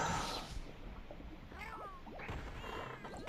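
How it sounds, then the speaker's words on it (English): Palico cats in Monster Hunter 4 Ultimate meow in short, rising and falling calls, several overlapping over a busy, noisy game background at moderate loudness. "The silly kitty cats."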